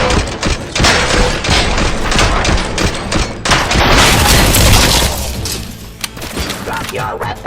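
Gunfire rings out in the video game RoboCop: Rogue City as rapid, loud bursts of shots and booms crowd together, mixed with occasional voices shouting.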